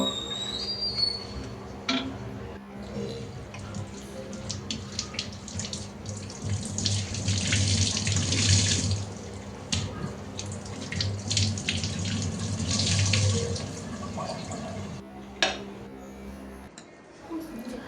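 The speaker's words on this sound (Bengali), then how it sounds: "চুলা ধুয়ে মুছে সব কিছু ধুয়ে পুরা রান্নাঘরটা ক্লিন করে নিব।" Tap water runs into a kitchen sink while the stove and kitchen are washed, a steady splashing stream broken by clatters and knocks of cleaning, with occasional voices in the background.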